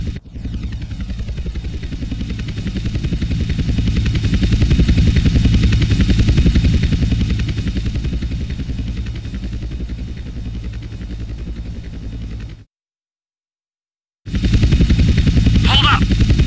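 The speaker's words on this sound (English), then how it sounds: "Two agency choppers coming in on an intercept." Agency helicopters closing in on an intercept in GTA San Andreas, a continuous rotor and engine drone that builds and holds loudly, then cuts to silence briefly before resuming, with voices speaking over it.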